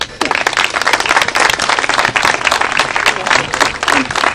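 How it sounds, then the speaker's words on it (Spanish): A crowd at an outdoor bust inauguration in a town plaza claps loudly and continuously, a thick burst of applause with a few voices underneath. "otro aplauso más para vos"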